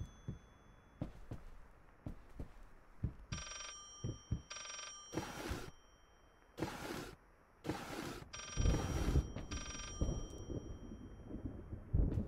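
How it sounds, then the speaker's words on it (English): A ringing book in the horror video game Layers of Fear gives off repeated bursts of harsh, bell-like ringing at uneven intervals, growing louder and denser, with soft clunks and knocks between them. "Look for a ringing book"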